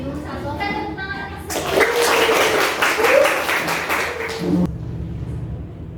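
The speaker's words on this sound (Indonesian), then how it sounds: "Oke, tepuk tangan." A classroom of pupils breaks into applause for a few seconds, a brisk patter of clapping amid children's voices, then cuts off abruptly into quiet room tone.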